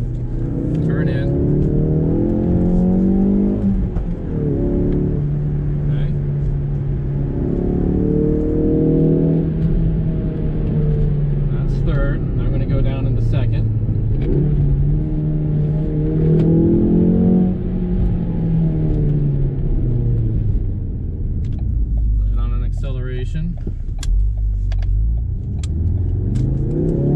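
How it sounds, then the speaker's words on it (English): A video game car engine revs and drops in pitch through repeated downshifts from a manual gearbox, with a person talking over it throughout. "Rev it on the downshift, down to third, down to second, turn in."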